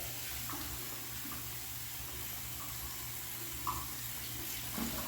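Water runs steadily from a sink tap set to lukewarm for rinsing a wig, a constant close hiss throughout with no talking.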